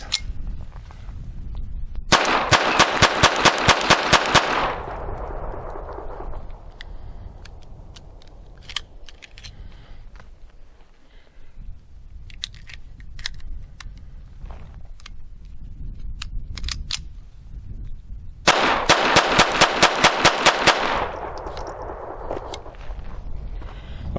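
Rapid strings of sharp .22 shots from a Phoenix Arms HP22 pistol loaded with Federal Auto Match rounds, two fast bursts at a range separated by quieter handling noise and faint clicks.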